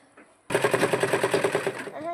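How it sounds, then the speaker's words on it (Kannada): A sewing machine stitches a school uniform, starting abruptly after a quiet moment and running in a fast, even mechanical chatter of rapid repeated beats, close and loud, with a brief voice near the start. "ಹೊಲಿಗೆ ಹಾಕ್ಲಕ್ಕ ಈ ಕಡೆ ಮಿಷನ್ ಕಡೆ ಎದ್ದು ಬಂದ"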